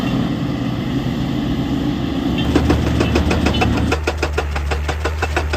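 A Hitachi EX200 excavator's diesel engine works on steep, rugged rock at a mining site, giving a loud, close, continuous rumble with a pulsing, chugging rhythm that grows stronger partway through.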